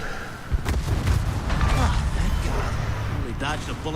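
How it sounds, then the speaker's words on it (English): Warship main guns fire in a World of Warships naval battle, a deep booming salvo rumbling under steady engine and sea noise while a person talks over it. "That's what a gun sounds like."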